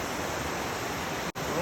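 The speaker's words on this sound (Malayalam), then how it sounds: "മഴ ഇൻകമിങ് ആണ് ഗൈസ്" Steady, dense rain pours down outdoors as a continuous hiss close to the microphone, broken by one brief dropout near the end.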